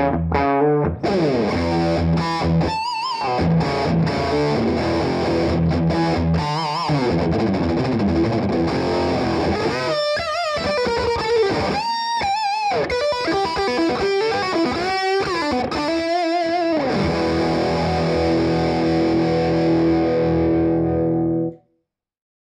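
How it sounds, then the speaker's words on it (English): Electric guitar played through a distortion pedal, a hard, aggressive metal-style tone, with loud sustained chords and riffs broken by short stops, ringing steadily before cutting off near the end. "Distortion has a harder, more aggressive sound, most commonly found in metal"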